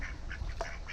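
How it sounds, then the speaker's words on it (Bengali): A farm duck kept at a rural home in Savar gives a few faint, short quacks in quick succession against a soft background hiss. "এই যে হাঁস, দেখছো?"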